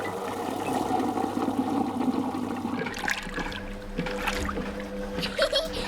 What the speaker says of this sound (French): on met la machine en marche et elle se remplit d'eau mélangée à du savon